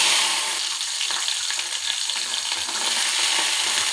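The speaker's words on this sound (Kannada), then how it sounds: "ಮೊದಲಿಗೆ ಎಣ್ಣೆ ನಂತರ ಸ್ವಲ್ಪ ಸಾಸಿವೆ ಹಾಗೂ ಸ್ವಲ್ಪ ಜೀರಿಗೆ ಬಟಾಣಿ" Mustard seeds, cumin and peas frying in hot oil for Rajasthani khichdi, a dense continuous crackling sizzle up close with no voices.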